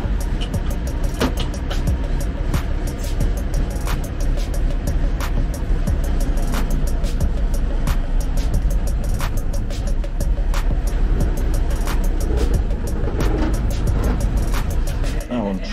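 An old German fire engine reverses slowly at a volunteer fire station, its engine a steady, loud low rumble throughout with rhythmic clicking ticks on top.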